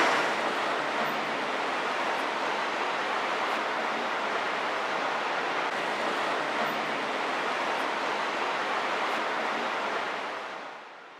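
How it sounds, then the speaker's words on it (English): Fast river water rushing through the town of Carcassonne, a steady broadband roar that holds evenly for about ten seconds before fading out at the end. "and that water is running pretty quickly."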